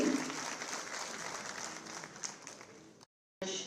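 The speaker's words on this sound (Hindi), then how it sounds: "तालियां जोरदार" Applause fills the venue at a national sports conference in Jammu, fairly faint and distant, tapering off before a brief cut to silence and a short return of clapping.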